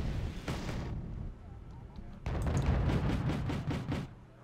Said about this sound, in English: they're gonna start firing back now